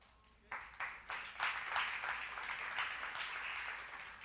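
An audience at a Christian church talk breaks into clapping after a quiet moment, the applause starting with a few scattered claps and quickly building into a sustained, moderately loud round that holds steady.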